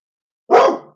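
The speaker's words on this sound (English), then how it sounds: "Sorry, that's my dog." A single loud dog bark bursts out close by after a moment of silence, one sharp woof with a quick fading tail, no voices alongside.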